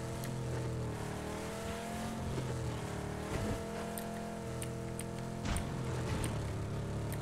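A vehicle engine drones steadily as it drives toward a slum area in the video game PUBG, with a sustained motor tone that shifts slightly in pitch and occasional bumps, close and continuous.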